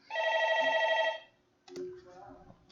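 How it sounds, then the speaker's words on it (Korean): A telephone rings with one long electronic ringtone burst, loud and clear, followed by a brief pause and a second partial ring during a maritime engineering lecture. "전화가 왔네."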